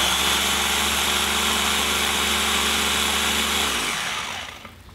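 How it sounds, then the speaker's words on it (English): Blender whirring loudly and continuously while blending habanero and ghost pepper hot sauce, a dense steady motor roar that winds down and fades out over the last second, no talk. "you should have a blender that's dedicated just to doing the hot sauce"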